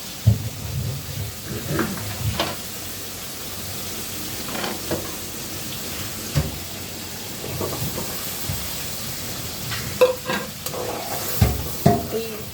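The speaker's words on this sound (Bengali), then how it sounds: "এখন এখানে টমেটোগুলো দিয়ে দেবো" Tomatoes tossed into a fish curry frying in a pan and stirred, giving a steady sizzle broken by repeated scraping, stirring strokes, all close and with no talking.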